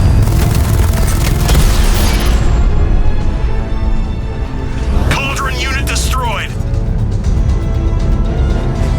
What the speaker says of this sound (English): Cauldron unit destroyed!